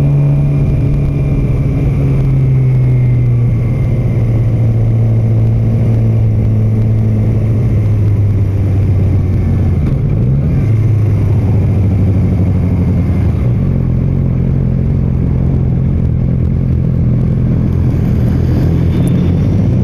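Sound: cars coming around really fast

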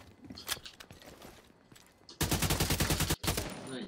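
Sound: gunfire in the video game Division 2

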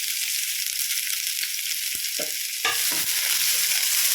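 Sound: sautéing onion, green chilli and mustard seeds in oil

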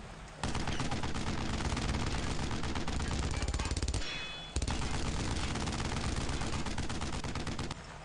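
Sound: MG-42 machine gun fire in the video game Brothers in Arms

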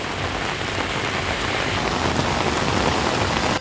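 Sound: heavy rain falling in Hyderabad city

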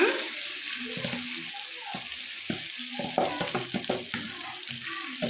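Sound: red chili chutney frying in hot oil on low flame

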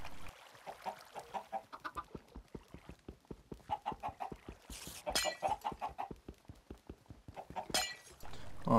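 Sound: chickens clucking on a video game chicken farm

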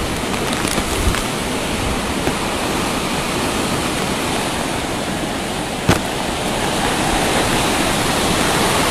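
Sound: Typhoon Rolly wind and rain in Albay

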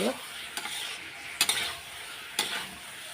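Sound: potatoes for aloo dum being sautéed in a pan

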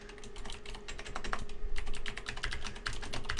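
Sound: typing a document name on a computer keyboard

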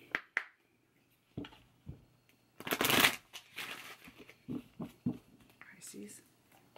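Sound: shuffling angel cards

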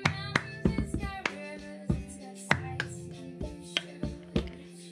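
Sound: hand clapping game with claps and table taps

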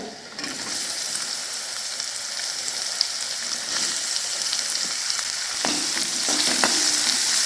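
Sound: chopped onion frying in a pan

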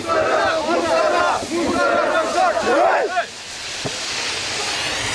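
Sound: activists shouting obscenities at police during a march

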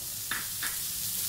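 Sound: mustard seeds and curry leaves frying for poha upma

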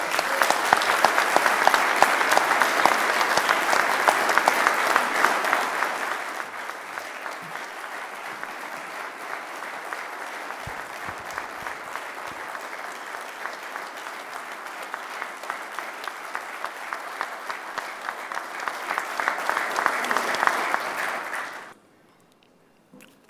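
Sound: crowd applauding at Hyde Park justice campaign rally

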